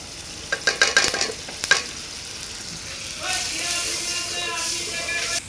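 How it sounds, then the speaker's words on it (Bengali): Ground spices with salt, turmeric, chili and roasted cumin stirred and fried in a pan, with a quick run of sharp spatula scrapes and clinks first, then a steady, loud sizzling hiss, close by and free of talk. "মশলা খুব ভালোভাবে কষিয়ে নিয়েছি"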